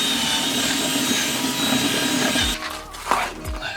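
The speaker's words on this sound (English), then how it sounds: "I'm just going to go in with the drill again." A power drill drills holes for a front splitter on a Ford Fiesta ST Mk6, whirring steadily at close range, then cuts off and restarts briefly with a rising whine.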